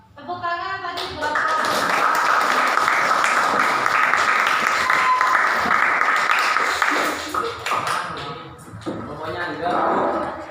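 A school classroom breaks into several seconds of loud, dense clapping after a group presentation, then tapers into scattered claps mixed with student voices.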